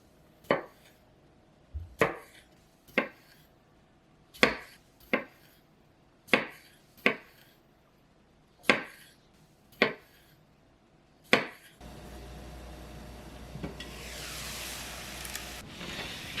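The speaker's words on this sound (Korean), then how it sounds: "방울토마토는 4조각으로 자르세요." Cherry tomatoes being cut into quarters with a knife on a board, about ten crisp, evenly spaced chops standing alone, followed by a stretch of broader rustling and clatter.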